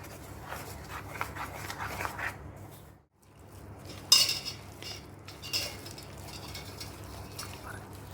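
Spoon scraping and clinking against a bowl while unniyappam dough ingredients are stirred together, a steady close clatter with a brief louder burst, no talk.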